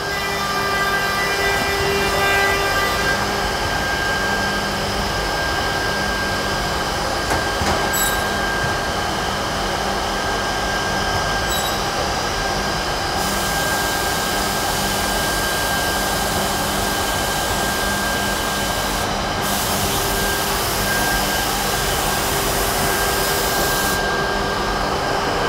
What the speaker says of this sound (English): we can see the panel going through the machine